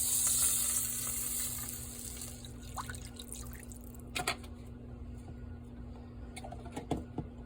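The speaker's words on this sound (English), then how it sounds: "So now to that, I'm going to add the orange juice." Orange juice poured into a hot pan sends up a loud hiss at first that fades within a couple of seconds into soft bubbling and a few scattered drips and clinks.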